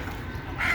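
Native chickens cluck on a backyard poultry farm where smoke is burning against mosquitoes, a steady close flock murmur that grows slightly louder near the end, with no talking.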